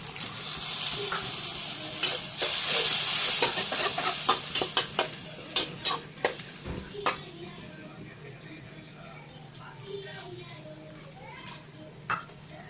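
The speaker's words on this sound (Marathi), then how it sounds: "आता मी या फोडणीत थोडंसं पाणी टाकणार आहे." Water poured into hot oil tempering spiced with pav bhaji masala for paneer bhurji: a loud burst of sizzling that fades, with a series of sharp utensil clinks against the pan and faint children's voices in the background.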